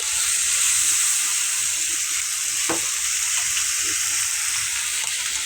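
Lentils hit a very hot pan and fry with a steady, bright sizzle that holds evenly throughout, broken by a brief clink near the middle, with no talking.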